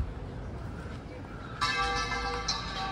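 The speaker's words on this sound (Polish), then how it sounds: "O, dzwony biją na moje powitanie" Church bells ringing at Wrocław cathedral, a bright metallic peal starting partway through and sustaining over outdoor street noise, with a second strike soon after.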